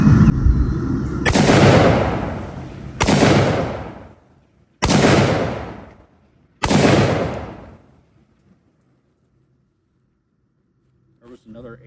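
Four loud shots come from a Remington 742 Woodmaster rifle at a steady pace, each a sharp crack followed by a long rolling echo that fades out, and the last one is followed by quiet.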